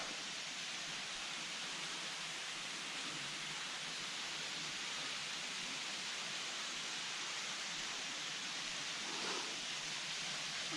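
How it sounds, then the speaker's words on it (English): A huge waterfall somewhere out in wild country gives a steady, broad rushing roar that stays even and unbroken throughout, filling the whole scene at moderate level with no voices. "there's a huge waterfall over there"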